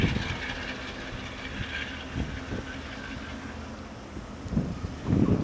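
Cab ride aboard a Wellington commuter train slowing down, with a steady low rumble and rolling wheel noise, faint clicks of the rails and a few heavier thumps near the end.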